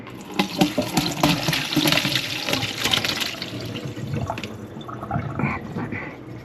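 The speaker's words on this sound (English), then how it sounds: "I'm going to pour it through a strainer." Homemade hot sauce made with Carolina Reapers, habaneros and red chilies is poured from a bottle through a strainer, making a steady close liquid splashing and trickling sound that runs throughout, with some clinks and softer dribbles near the end.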